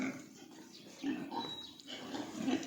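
Pigs grunt and oink in a shed on a farm, with a few short calls rising above a busy low murmur while someone talks over them close by.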